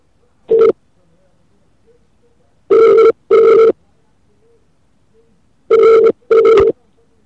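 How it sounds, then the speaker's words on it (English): Telephone ringback while a call is placed: a single short ring, then two pairs of ring bursts, each pair spaced a few seconds apart, loud and clear over near silence. "Right, phone him now, here we go."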